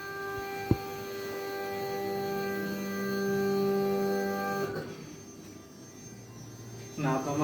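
A Jinka cutting plotter hums steadily while it marks registration points for a manual contour cut, with a clear sustained tone and one sharp click early on. The motor noise drops away near the end as a brief rattle starts.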